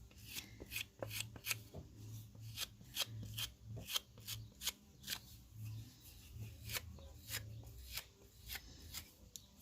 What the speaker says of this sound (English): Just burnishing that up